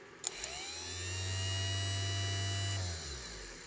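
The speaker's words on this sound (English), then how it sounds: "And the motor spins with tremendous power, and I'll reverse polarity." A restored Cadillac power seat mechanism motor spins up and runs steadily for about two seconds with a strong low electric hum and whine, then winds down, with a couple of faint clicks at the start.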